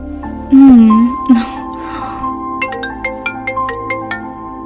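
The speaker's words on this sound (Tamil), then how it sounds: "ஆதி இப்போ என்ன பண்ணிக்கிட்டு இருப்பான் ஃபோன் பண்ணி பார்க்கலாம்" A phone rings out on an outgoing call, with regular short ringback tones pulsing evenly after an opening burst of a single voice.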